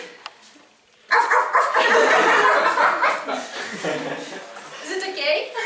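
A man imitates a dog barking in front of an audience, a broad, loud yelping burst that trails off into laughter-like voicing after a quiet start.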